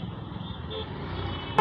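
Car horn honking on a road where a Scorpio SUV waits at a crossing amid traffic; steady engine and traffic rumble runs throughout, with a sharp loud horn-like blast bursting in at the very end.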